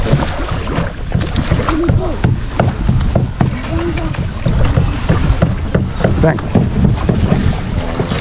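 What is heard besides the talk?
canoe on the water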